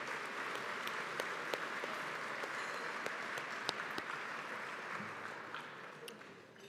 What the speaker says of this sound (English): Let's have one more round of applause for the people who helped make this evening possible.